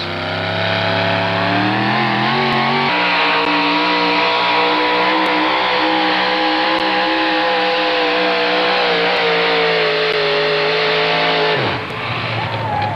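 A big Ford four-wheel-drive pulling truck roars steadily at full throttle during an NTPA truck pull in Galax, Virginia, the loud engine droning with a gear change early on before the revs drop off near the end.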